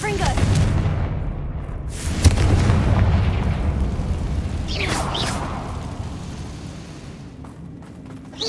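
The Confringo blasting spell goes off in the wizarding video game Hogwarts Legacy: a heavy boom, followed a few seconds later by crackling bursts, set over a rumbling game-audio bed.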